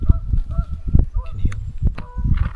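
Geese honking as they fly over a campsite, several short nasal calls scattered amid outdoor noise, with people talking nearby.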